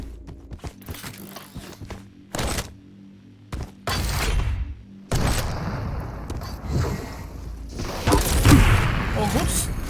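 Rocket launcher blasts and impacts in a Quake video game duel, several loud booms among footsteps and weapon clatter, with a commentator talking over the action.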